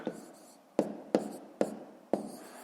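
A pen writes numbers for a school multiplication exercise, several short scratchy strokes spaced about half a second apart, close and quiet.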